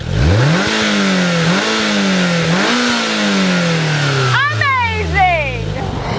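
A 2022 Polaris Slingshot SL with 178 horsepower revving hard in Slingshot mode, several rising pulls through gear shifts, then sharp blips near the end, loud and close, with some talk over it.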